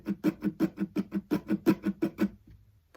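Acoustic guitar strumming a pattern without its accented strums, about eleven even, evenly spaced strokes in a steady rhythm, close and moderately loud, then fading out.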